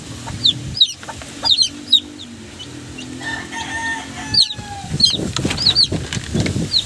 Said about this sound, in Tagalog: ito yung mga sisiyo